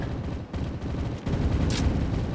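Continuous rattling gunfire from the Roblox shooter game RECOIL, dense and fairly muffled, with a sharper burst near the end and no talk over it.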